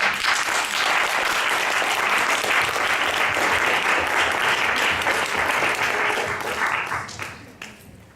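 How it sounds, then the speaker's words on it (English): Sustained audience applause at a home birth conference in Prague, dense and steady for several seconds with a louder, closer clapping layer, then tapering off near the end. "don't clap when you're holding a microphone in your hand"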